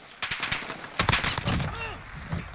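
Single tapped shots from a VKS rifle in Call of Duty Modern Warfare crack out in two close bursts, sharp and loud, with a faint ringing tail after the last shots.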